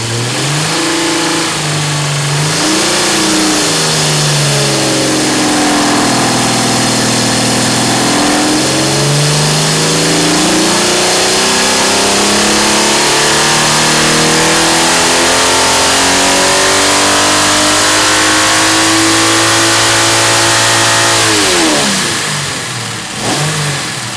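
A Jeep 4.7 liter stroker engine revs hard on a dyno, its loud pitch sweeping up and down repeatedly before one long climbing pull to high RPM, then dropping off at the end.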